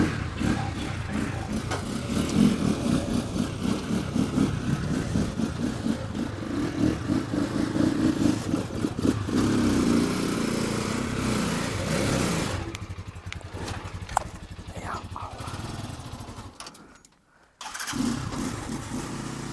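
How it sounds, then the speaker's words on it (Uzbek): A motorcycle engine runs steadily at close range in Qanlikul district, Karakalpakstan, with a rough, pulsing idle that drops out briefly near the end before picking up again. "bu mototsiklimiz Qoraqalpog'iston Respublikasi Qonliko'l rayonidan ketib boradir"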